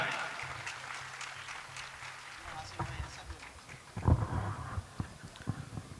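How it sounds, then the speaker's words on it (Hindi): At an all-India kavi sammelan poetry gathering in Shujalpur, scattered, fairly faint applause for a poet of the heroic veer ras style mixes with voices and the murmur of a hall audience. "अगर आपकी जम के और भरपूर तालियां आएगी तो कुछ अलग आनंद आएगा।"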